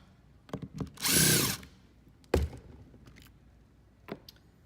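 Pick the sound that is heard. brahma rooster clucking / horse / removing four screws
removing four screws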